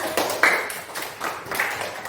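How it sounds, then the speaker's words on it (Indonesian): A class of sixth-grade children clapping their hands in a classroom, a brief scattered burst of claps that rises in a few uneven surges, fairly close and alone without talk. "Tepuk tangan semua."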